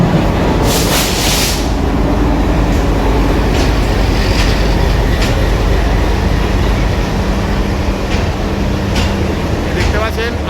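Azad Hind Express passenger train running from Pune to Howrah: a loud, steady rumble with faint rail clicks and a murmur of voices in the background.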